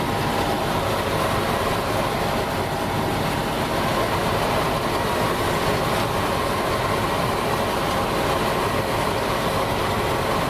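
A steady, continuous rumble of a train rolling along the tracks beside farm fields, fairly close, with a broad roar throughout and no talking.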